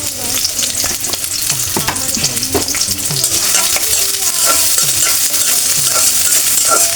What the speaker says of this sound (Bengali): আমি এখন রান্নার তেল দিয়ে দিলাম, কিছুটা কাঁচামরিচ দিয়ে দেবো